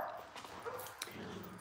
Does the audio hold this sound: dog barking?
yes